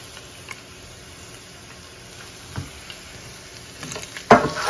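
Chop suey vegetables being stir-fried and mixed in a pan give a soft, steady sizzle with faint scraping and stirring ticks, then a louder clatter near the end.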